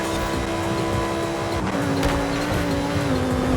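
A Lamborghini Sesto Elemento racing in Forza Horizon 5, its engine a steady high-revving whine that shifts pitch partway through, with another car close behind, loud and continuous.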